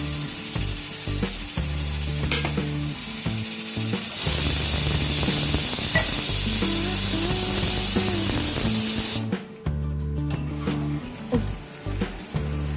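Mutton curry with potatoes and chilli sizzling in oil in a pan, a steady hissing fry with faint scraping, cutting off sharply near the end to quieter stirring noises.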